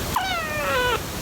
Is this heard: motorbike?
no